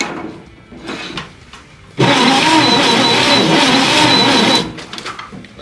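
A 1960 Ford Falcon Ranchero engine, sitting unused for 20 years, cranking via a jumped starter wire: a loud, continuous churning burst of about two and a half seconds, preceded and followed by quieter rustling.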